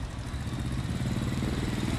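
Honda Alpha motorcycle engine idling quietly, a soft steady putter close by, with no talk over it.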